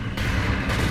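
Mortar fire in the war game Company of Heroes 2 during a 4v4 Annihilation match, a brief, dense, rumbling boom that fills the whole moment with sustained low battlefield roar.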